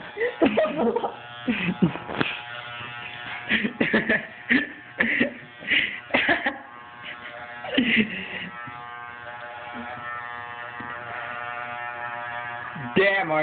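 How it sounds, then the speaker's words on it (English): An electric shaver buzzes through someone's hair at a barber shop, its steady close buzz rising and dipping in short bursts as it moves, then droning on continuously, with voices talking over it. "he's shaving all of it"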